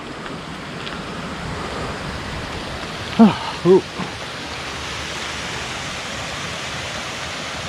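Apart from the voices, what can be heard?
small cascading waterfall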